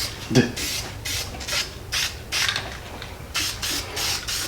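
Self-etch primer sprays from a rattle can in short hissing bursts, about seven separate passes with brief pauses between, close by.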